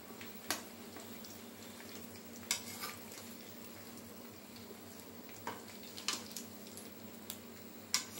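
Drumstick pieces (mulakkaya) fry in a deep pan of oil, a soft continuous sizzle broken every few seconds by light ladle scrapes and clinks as they are turned.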